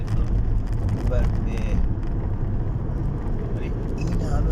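Steady road traffic on the Chalus road, a continuous rumble of many cars driving close by with a dense, unbroken low drone throughout.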